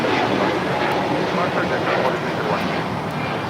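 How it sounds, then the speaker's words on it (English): An Airbus A320neo airliner takes off at LAX, its jet engines producing a loud, steady broadband roar throughout, with faint voices underneath. "This is Vladis 4331 taking off to San Salvador on an A320 Neo"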